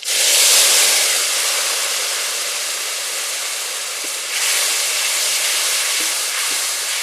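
Cumin paste hits hot mustard oil in a pan already holding whole cumin and green chillies, giving a loud, steady broadband sizzle that surges at the start and again midway, with no talk.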